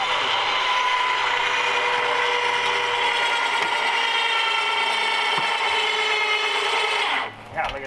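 A homemade crane hoists a trailer by a chain. A steady, close mechanical whir with a ratcheting rattle runs for about seven seconds, then cuts off abruptly with a few clanks.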